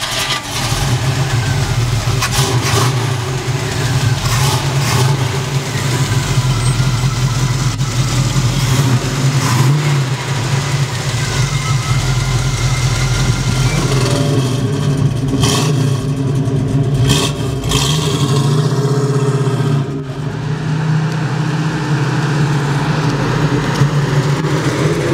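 A 1967 Chevy Camaro RS/SS convertible V8 with a 4-speed runs steadily for about 25 seconds, a loud continuous low drone with mild swells of revving and a brief dip near the 20-second mark.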